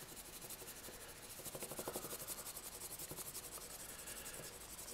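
Crayon rubbed over paper to make a fish-shaped frottage, a steady close scratchy rasping with quick back-and-forth strokes throughout, no talking.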